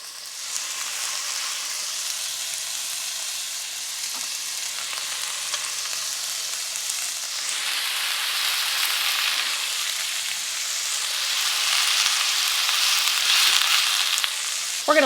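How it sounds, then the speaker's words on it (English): Sausage pieces fry packed tightly together in a pan, producing a close, continuous crackling sizzle that swells and grows denser over the span, with a sharp clatter at the very end and no voices. "I'm going to start placing my pieces of sausage in the pan"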